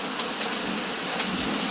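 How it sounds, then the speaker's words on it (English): Heavy rain mixed with hail pours down during a storm in Tucson, a dense, loud and steady hiss of drops pounding surfaces nearby, with no voices. "that's not really even rain. That's like freaking hail and lightning."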